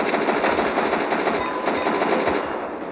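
Zombie-shooter video game gunfire: a steady, fast rattle of automatic shots, loud and close throughout, easing slightly near the end, with no voices.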